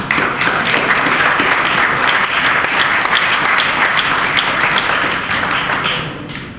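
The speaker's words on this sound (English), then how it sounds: "let's give these guys a round of applause" Crowd applauding a group of students, a loud, sustained burst of many hands clapping that fades slightly toward the end, with no talk over it.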